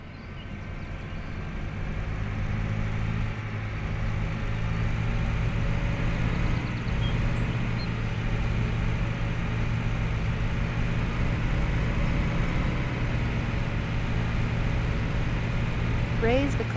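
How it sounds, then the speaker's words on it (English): A tractor pulls a lowered cultivator across a field in the farming game Cattle and Crops, its engine a steady, loud droning hum that holds unchanged throughout with no break. "lower the cultivator. Cultivate the first track,"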